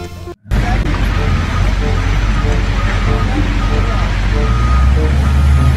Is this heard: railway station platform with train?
no